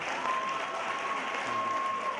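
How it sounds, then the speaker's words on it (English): Steady, dense applause from a graduation audience, sustained and even throughout with no break, a full room clapping together. "You're getting the loudest applause of everyone"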